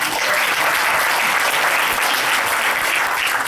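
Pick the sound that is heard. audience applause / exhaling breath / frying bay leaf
audience applause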